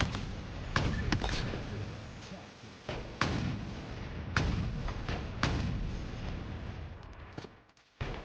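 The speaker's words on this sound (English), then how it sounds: "Shoot the gun, please." Gunfire in a Halo video game, a series of irregular sharp thuds and shots, some louder than others, scattered across the stretch with a sudden cutoff near the end.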